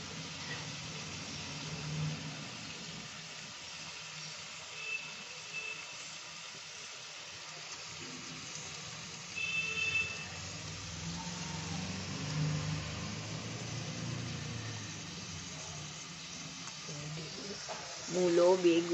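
Vegetables such as radish, eggplant, potato and beans hit hot oil in a pan of prawn chorchori curry and hiss and sizzle steadily, with the frying swelling at moments. A person talks over the cooking throughout.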